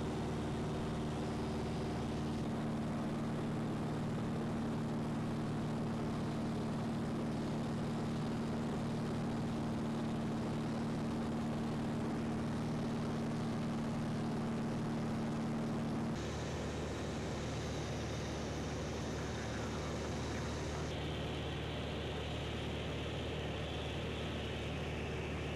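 A small plane flies over Ithaca toward the airport, its steady engine and propeller drone loud and constant throughout, with a change in tone partway through and no voices.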